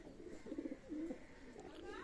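Pakistani high-flyer pigeon at a loft gives a soft, low cooing call in two short bursts, fairly faint against a steady background hum.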